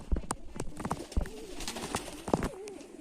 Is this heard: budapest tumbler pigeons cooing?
yes